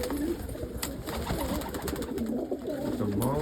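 Crested saddle pigeons coo softly and repeatedly at close range over a steady background hum, with low rounded calls recurring through the whole stretch.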